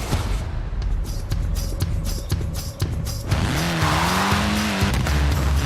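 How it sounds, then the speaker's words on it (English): A rally car in Forza Horizon 4 roars along a stage, engine droning steadily with rhythmic gear-change pulses, then revving up and shifting pitch with loose gravel hiss and tyre noise. "A spot of rallying in the most British car of them all"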